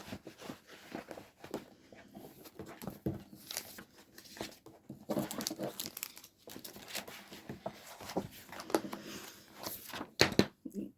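Paper is crinkled and crumpled up close, irregular crackling and rustling bursts scattered over several seconds, fairly quiet, with occasional soft handling noises between them.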